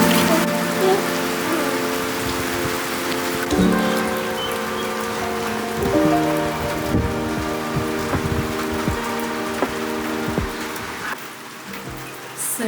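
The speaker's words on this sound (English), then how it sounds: "we've actually had a pretty cool thunderstorm roll through" Steady rain from a passing thunderstorm patters on surfaces outside a family home, a continuous close wash of drops that fades briefly near the end.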